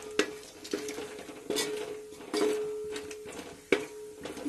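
Almonds and onions stirred and lightly fried in a cooking pot for shahi pulao, with a spoon scraping and knocking against the metal in irregular clinks over a soft, faint sizzle.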